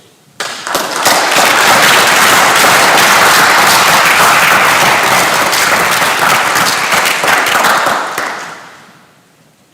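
Hearty applause from a graduation ceremony audience bursts in suddenly, holds loud and dense for about eight seconds, then tapers off into silence.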